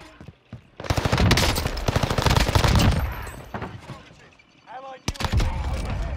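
Rapid automatic gunfire in the Warzone Pacific shooter, loud dense bursts of shots with a brief lull before another volley near the end, with faint voice chatter mixed in.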